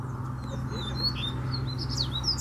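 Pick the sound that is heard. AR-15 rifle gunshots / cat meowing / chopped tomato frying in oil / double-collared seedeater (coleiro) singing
double-collared seedeater (coleiro) singing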